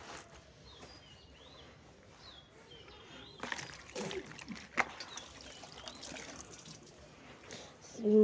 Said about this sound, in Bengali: তো চলো আমি জামা কাপড়গুলো কেচে ধুয়ে নিচ্ছি